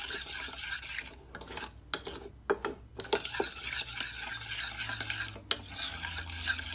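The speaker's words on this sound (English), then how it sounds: "Mix the ingredients together. You can add the Worcestershire sauce." Jerky marinade of black pepper and garlic powder being mixed by hand in a bowl, a spoon or utensil scraping and clinking against the sides in irregular close strokes, with louder knocks every second or so and no talking.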